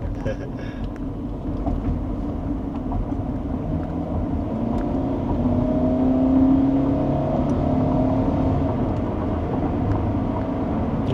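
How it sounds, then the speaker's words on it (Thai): A tuned gasoline Toyota Camry accelerates to overtake on the road, its steady engine drone and road rumble rising gradually to a fuller peak before easing slightly, heard from inside the cabin under ongoing conversation. "เร่งแซงชิวๆเลยนะ"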